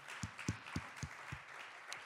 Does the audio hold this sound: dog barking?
no